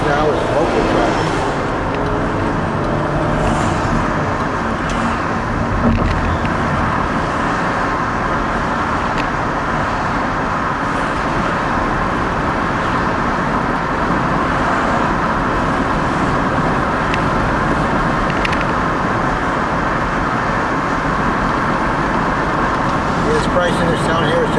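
Steady roadway noise from local traffic on Route 27 in inland Florida, a continuous broadband rumble of passing cars and heavier vehicles heard from inside or beside the road, with voices speaking over it throughout.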